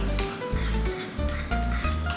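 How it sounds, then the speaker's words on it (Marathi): Hot phodni tempering poured over a Navratri fasting cucumber koshimbir salad gives a steady, close crackling sizzle with frying pops that runs for about two seconds. "आणि मग ही अशी मस्त चुरचुरीत अशी फोडणी आपण या कोशिंबीरवर घालणार आहोत"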